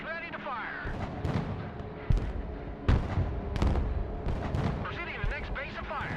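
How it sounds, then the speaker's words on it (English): MLRS rocket artillery launches in the war game Broken Arrow, with repeated sharp booming blasts and whooshing rocket streaks, loud and close, mixed with radio-style voices talking. "MLRS ready to fire."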